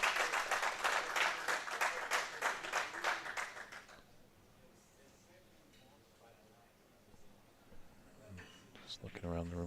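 Rhythmic applause at a snooker championship, a run of steady, evenly spaced claps for about four seconds that then stops, leaving quiet room tone and a voice speaking near the end.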